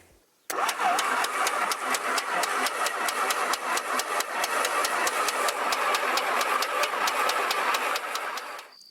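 A 1949 V-Tail Bonanza's aircraft engine, started with a jumper, roars at full throttle with a steady pulsing beat for about eight seconds, loud and close, then cuts off abruptly.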